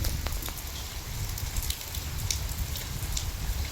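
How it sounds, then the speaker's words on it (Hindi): Hail and rain fall during a stormy downpour, a dense steady hiss with scattered sharp ticks of hailstones striking surfaces, close and continuous, with no voices. "ओले पड़ गए हैं, तो यहाँ पर भी ओले आए हैं, देखो देखो ओले।"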